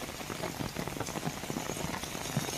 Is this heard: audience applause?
no